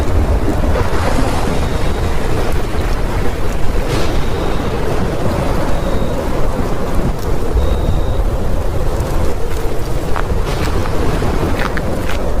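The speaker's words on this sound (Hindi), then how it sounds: "देर रात मौसम खराब हो जाता है और बहुत तेज बादल गरजते हैं" A heavy late-night thunderstorm rumbles on, a dense, continuous low roar of thunder mixed with wind and rain, loud and unbroken throughout.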